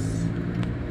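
Cars passing on a busy road make a close, steady low rumble of engines and tyres, heard alone and continuous through a very short stretch.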